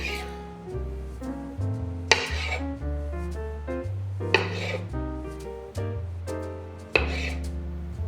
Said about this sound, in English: we're going to use these tomatoes, these nice grape tomatoes. I'm just gonna cut them in half.